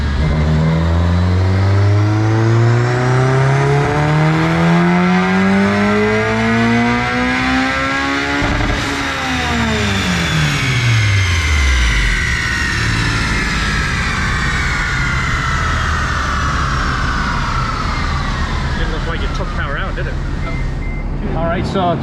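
A Mugen Honda Civic Si engine on a dyno in fourth gear climbs in a loud, rising rev, then drops sharply and winds down, with voices over the tail end.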